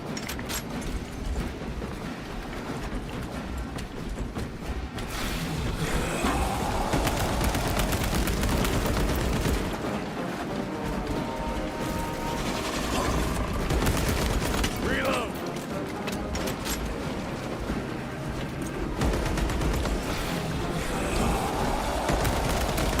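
Sustained gunfire from Warhammer 40,000: Space Marine 2 rattles on throughout, dense bursts layered with battle noise and occasional voices in the game mix.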